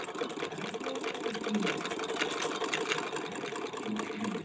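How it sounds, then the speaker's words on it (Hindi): A roughly fifty-year-old sewing machine stitching a suit runs in a continuous, even mechanical whir with rapid rattling, close by and moderately loud throughout. "ये लगभग पचास साल पुरानी मशीन है और आज इसमें मैं सिलूँगी"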